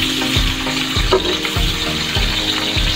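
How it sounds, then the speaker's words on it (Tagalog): Bacon frying in a pan, a steady dense sizzle with crackling, broken every half second or so by soft low scraping pulses as the strips are moved; loud and close, no voices. "Sa pagluluto ng bacon guys"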